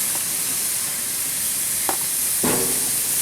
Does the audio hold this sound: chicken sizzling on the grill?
yes